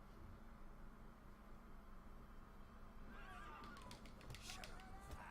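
A horse whinnies in a video game, a high, wavering call rising over steady background hiss, followed by a few sharp clicks and clatters.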